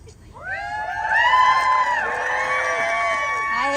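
A rally crowd outside the Kentucky State Capitol in Frankfort cheering and whooping, many voices rising together into a loud, sustained roar that holds steady to the end.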